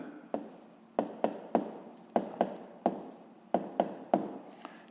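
Sharp strokes of a pen writing out a sixth-grade math expression of repeated added terms: about a dozen crisp taps and short scratches in an uneven rhythm, close and clear, with no talking.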